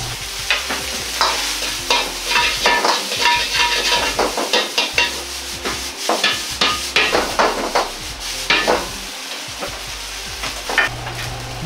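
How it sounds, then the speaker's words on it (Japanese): Sichuan-style spicy fried rice with green onions is tossed and stirred in a hot wok, with rapid rhythmic scraping and clanking of a ladle against metal over a steady sizzle, loud and close. "全体をよく炒め合わせます。"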